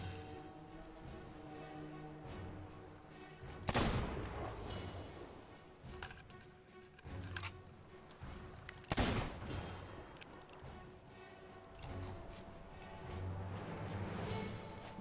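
Sniper gunfire in the pirate video game Sea of Thieves, with two sharp loud shots standing out over game ambience and a few smaller bangs.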